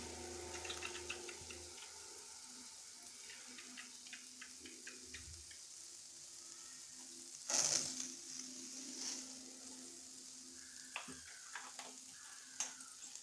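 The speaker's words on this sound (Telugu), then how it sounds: "మిక్స్ చేసేయండి." Tomato sauce being stirred into homemade pasta in a pan, with soft scraping and light sizzling under a quiet background, a few faint clicks and one brief louder clatter near the middle.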